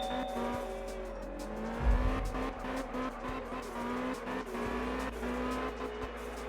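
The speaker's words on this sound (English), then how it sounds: "all the cars in the game sound different as well" Racing car engines rev and whine while tires squeal through drifts, with a heavy thump midway and constant motor drone throughout, in the video game Absolute Drift.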